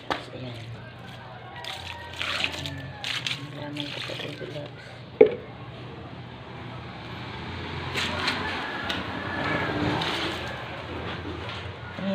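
Leftover rice-washing water poured from a container onto potted plants, a soft running splash that swells toward the end, with someone talking over it.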